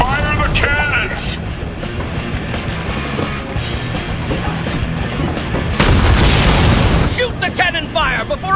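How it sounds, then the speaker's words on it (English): Cannon fire in Sunset Overdrive during a siege battle, heavy booms and bursts crashing over game music while voices shout over the action. "Fire the cannons!"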